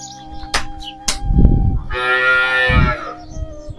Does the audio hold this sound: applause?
no